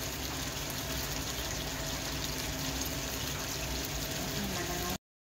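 Water runs or pours steadily in a kitchen while sardines and noodles are being cooked, giving a continuous hiss that stops abruptly at the end.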